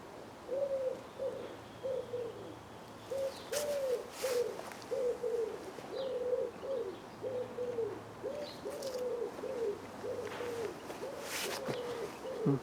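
Soft cooing bird calls repeat in a steady pattern from a distance, with a few sharper chirps and rustles in a quiet outdoor setting.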